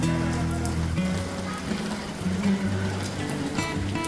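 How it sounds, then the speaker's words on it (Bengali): Evening rain falls steadily at a mountain camp on the route to Adi Kailash and Om Parvat, a continuous soft patter mixed with a low steady hum throughout. "কিন্তু সন্ধ্যা থেকে বৃষ্টি শুরু হয়ে গেল।"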